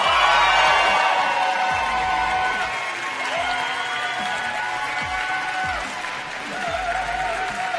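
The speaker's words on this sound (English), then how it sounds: "I don't know if you can hear the crowd," A packed World Barista Championship 2018 final-round audience applauds and cheers loudly and steadily, with whoops rising over continuous clapping throughout.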